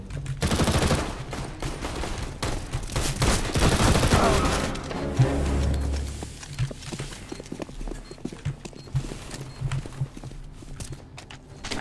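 A decoy grenade in a tactical shooter video game gives off fake gunfire. Rapid bursts of sharp shots crowd together loudly at first, then thin out into scattered, fainter cracks.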